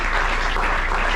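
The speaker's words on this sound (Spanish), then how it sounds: "Un aplauso a todas ellas, a todos ustedes." Audience applause for activists at a film tribute held at the Cinematógrafo El Chopo in Mexico City, a steady dense wash of clapping at close range with no voices over it.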